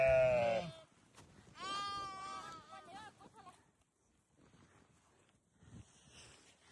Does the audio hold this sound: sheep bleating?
yes